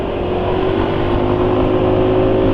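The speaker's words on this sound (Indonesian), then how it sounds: "suara mesin masih halus" A large-displacement car engine, freshly changed to Mesran B40 oil and driven 34 km since, idles steadily and smoothly up close, a constant low hum with no changes in pitch.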